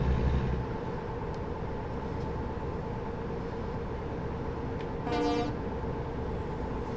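A truck in the online multiplayer driving game Truckers MP gives a single short horn honk of about half a second. It rises over a continuous low engine rumble partway through.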